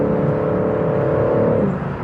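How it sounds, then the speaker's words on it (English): A BMW M3/M4 engine drones from inside the cabin, a smooth, steady hum with a sustained tonal note that fades slightly at the end. "The engine sounds great on the inside."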